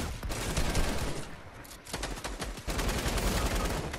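Rapid video game gunfire from hip-fired weapons crackles in dense bursts, loud and close, with short breaks between volleys and no voices over it.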